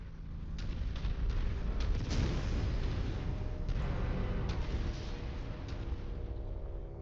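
An enemy mech is destroyed in the MechWarrior 5 video game, with a heavy, rumbling explosion roar and crackling debris that swells, then lingers as a loud sustained blast with no talk.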